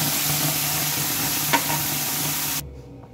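Boiled raw mango dropped into hot oil with chili flakes, a loud steady sizzle with one quick clatter partway through, cutting off abruptly near the end into quiet, no speech.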